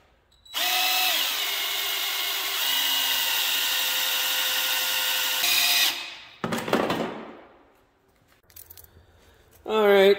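An electric drill-driven pump siphoning old fuel from a Polaris 440 snowmobile whines steadily for several seconds, then stops; clunks and handling noises follow before a brief restart at the end.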